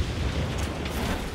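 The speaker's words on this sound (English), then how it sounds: "Some hombres close by heard the explosion." An explosion in Ghost Recon Wildlands comes through as a loud, dense rumbling roar that holds steady and close for over a second, with no talking.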